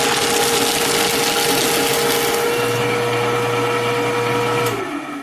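A Fellowes Powershred 225Ci crosscut paper shredder chews through a thick stack of sheets with a loud, continuous motor grind and rustling crunch, changing pitch partway through and winding down at the end, with no voices.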